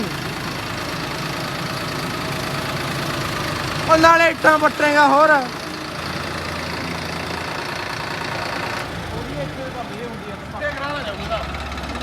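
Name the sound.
Swaraj tractor engine straining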